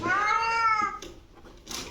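A house cat gives one loud, drawn-out meow close by, which then fades into soft rustling and a brief burst of noise.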